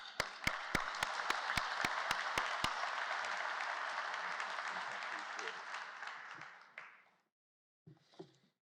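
Audience applause at a pharmacy college white coat ceremony, a broad steady wash of clapping for several seconds with a few sharp near claps at the start, fading out around seven seconds, followed by brief faint sounds.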